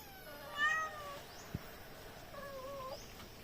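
A kitten meows twice, clear and fairly close, with a short tap between the cries and quiet room noise underneath.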